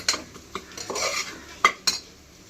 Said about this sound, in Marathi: मसाले चांगले परतून घ्यायचे.